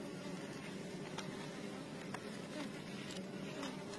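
Honeybees at a beehive give a soft, continuous buzzing hum, with a few faint clicks from the hive and no talking.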